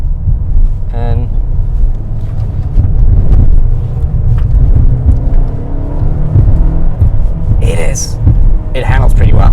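A 2021 Mercedes-Benz GLA 250 4MATIC small SUV on the move, heard from inside as a loud, steady low rumble of road and engine noise with wind buffeting, and someone talking over it.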